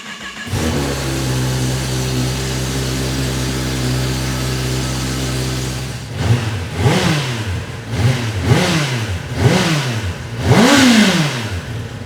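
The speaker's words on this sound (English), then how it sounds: "So you heard the stock exhaust, it sounds pretty good" A brand-new Kawasaki ZX10R sport motorcycle on its stock exhaust starts and idles steadily, then is revved in five or six rising and falling blips, loud and close with no talking.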